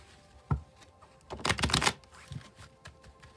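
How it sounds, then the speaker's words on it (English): Tarot cards being shuffled by hand: a short riffle near the start, then a dense burst of flicking card edges lasting about half a second, followed by softer intermittent handling, close up with no talking. "I'm going to shuffle till I feel like the deck is ready"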